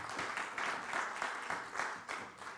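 An audience at a round-table conference applauds a guest, a fairly distant, even patter of many hands clapping that swells and eases in gentle waves for a few seconds, with no voices over it.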